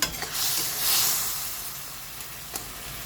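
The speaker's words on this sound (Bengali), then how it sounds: "দেখুন বন্ধুরা, টমেটোটা ফুটতে শুরু করেছে।" Tomato chutney simmers in a pan with a soft, steady sizzling hiss that swells briefly and then settles, faint and close, with no voices.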